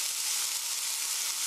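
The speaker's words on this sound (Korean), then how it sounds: "3분 정도 볶아주세요. 살살 데워가면서." Sliced onion and garlic stir-fry in a pan as a steady, close, bright sizzling hiss with faint soft stirring ticks and no talking.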